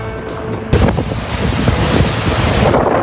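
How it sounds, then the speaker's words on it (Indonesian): Strong wind and high waves batter a row of boats along the coast at Tuzla. A quieter start suddenly bursts into a loud, steady roar of gusting wind and crashing surf. "terjangan angin kencang menciptakan gelombang tinggi yang mengguncang deretan perahu di sepanjang pesisir"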